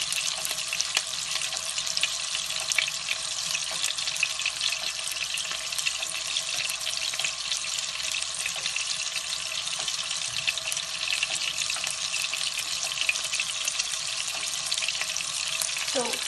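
Large meatballs stuffed with ricotta frying in a pan, a steady bright sizzle and crackle that holds evenly throughout, close and continuous with no one talking.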